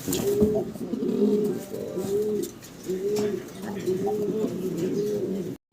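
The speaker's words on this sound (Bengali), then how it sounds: "দর্শক শর্ট ফেস কবুতর আমরা সাদা দবদবা দেখতে পারতেছি এখানে" Short-faced domestic pigeons, a pair of white ones, coo repeatedly on a pigeon farm, a steady series of low rolling coos with soft bird chatter around them and no talking.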